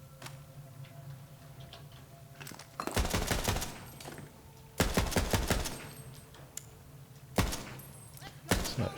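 Bursts of assault rifle fire from a Borderlands 3 shooter game, fired in three or four loud rapid volleys separated by short pauses, over a steady low game hum.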